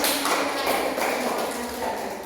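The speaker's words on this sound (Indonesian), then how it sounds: "mari kita tepuk tangan untuk teman kita Yuni" Classroom children applauding together, a dense, steady wash of hand claps that fills the room at close range with no pauses.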